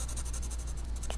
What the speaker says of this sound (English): I'm shading in the eye with blacks. I'm using the side of my pencil.